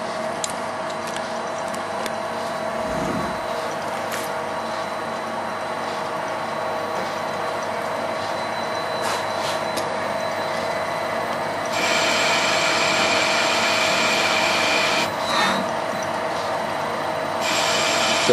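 A lathe threads stainless steel, a steady mechanical hum with a faint whine and a few small clicks, close and even, growing slightly louder near the end, no voices.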